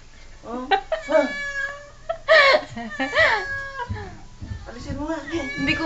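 A large cat meowing repeatedly in a home, several drawn-out wailing cries close to the recorder, with people talking around it.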